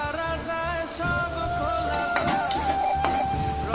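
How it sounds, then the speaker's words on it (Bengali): Vegetables with turmeric, cumin paste, coriander powder and salt are sautéed in a pan for a fish curry with potato and kalmi stems, giving a steady close sizzle and stirring under a sustained musical tone. "মশলার থেকে সবজিটা ভালো করে কষিয়ে নেব।"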